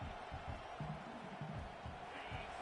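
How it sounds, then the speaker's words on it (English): A stadium crowd at a college football game roars in a steady, dense wash of cheering and shouting, loud and continuous throughout with no single voice standing out. "It's early, but this crowd is fired up. Listen to this noise here."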